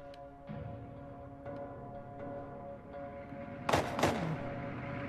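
Sniper rifle fire in The Last of Us video game: a single sharp, loud crack late on, followed by a quick second burst, over a steady low game ambience.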